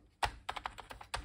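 Keys clack on a Sony PlayStation 2 keyboard, a quick close burst of about six crisp taps with no voices.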